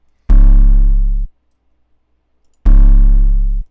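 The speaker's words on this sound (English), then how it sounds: "the first 808 I got was this GTFOMW 808. It sounds like this." Two deep, booming GTFOMW 808 bass hits in FL Studio, each sustained for about a second and separated by a short silence.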